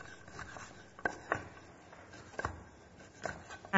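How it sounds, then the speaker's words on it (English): A knife slices through chorizo on a cutting board, giving soft, quiet cuts in an irregular rhythm with a few sharper taps against the board. "So I'm going to slice the chorizo."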